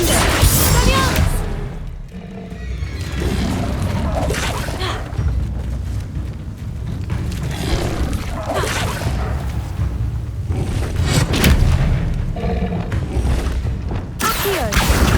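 Spell impacts and magical explosions from the game Hogwarts Legacy: a dense, continuous run of booms, whooshes and crashing thuds at loud level, with bursts recurring throughout amid battle clutter.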